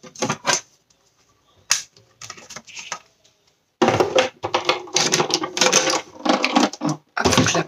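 A sewing machine stitches a fabric Christmas bauble in short bursts of rapid mechanical whirring and clatter, with pauses between runs, close up.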